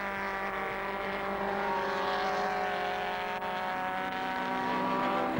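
Formula Vee race cars at Silverstone in the early 1990s, including a Scarab, scream past in a dense pack, their overlapping engine notes loud and sustained with shifting pitch and no voices over them.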